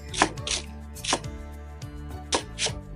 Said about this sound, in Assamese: এতিয়া লৈ ল'লোঁ পিঁয়াজটো আৰু পিঁয়াজটো সৰু সৰুকৈ কাটি লৈছোঁ।